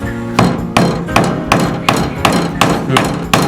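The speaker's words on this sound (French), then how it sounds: "Il faut enfoncer les clous légèrement en biais." Nails hammered into a wooden plank while building a small raised vegetable planter, eight sharp, evenly spaced hammer blows, loud and close, each with a short woody ring.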